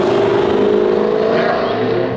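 A modified car engine revs hard and continuously, a loud, dense exhaust roar that stays steady and close for the whole stretch, with no clear separate pops or bangs standing out.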